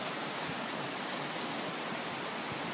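A waterfall cascades down a mountain valley on Mt Moosilauke along Kinsman Ridge, a steady, close, full-band roar of rushing water that continues unbroken throughout with no voices.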